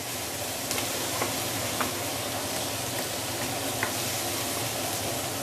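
Ginger frying in a wok gives a steady, dense sizzle with occasional faint clicks of stirring, close and continuous, with no voices.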